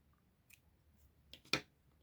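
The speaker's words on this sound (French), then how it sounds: "Et nous allons couper notre fil" Scissors snip through crochet yarn in one sharp, close cut, with a couple of softer clicks of the blades just before it, in an otherwise quiet room.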